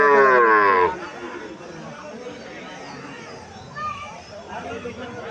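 A Sahiwal calf lets out one loud, close moo at the start, then quiets to a murmur of people talking in the background at a cattle market.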